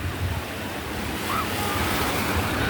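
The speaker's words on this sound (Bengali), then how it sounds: "যেদিক দিয়ে ঢেউ হবে সেদিক দিয়ে যাও ঢেউ আসলে শক্ত হয়ে যাবে" Sea waves breaking on the beach at Cox's Bazar, a constant loud roar of surf mixed with wind buffeting the microphone and a faint distant voice.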